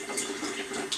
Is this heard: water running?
yes